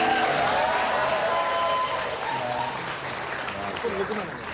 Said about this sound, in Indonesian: monggo silakan tepuk tangan